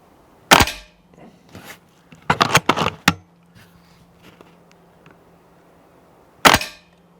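A Walther Reign MK 2 bullpup air rifle firing pellets, sharp snapping shots, one near the start, a quick cluster of clicks and cracks in the middle and another shot near the end, over a faint steady hum.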